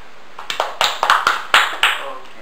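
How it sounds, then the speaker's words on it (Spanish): Children clap after a story in a classroom, a scattered series of sharp claps close by, several quick hits building to a few louder ones, with voices faintly present. "Y si no aplauden, se quedan pegados."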